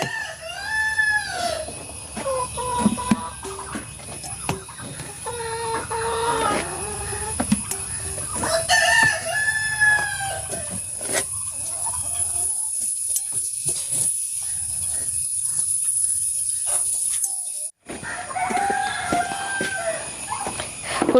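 Backyard chickens crow and cluck close by, with a rooster's repeated cock-a-doodle-doo calls rising over steady clucking and chatter from the flock, and a brief drop-out near the end.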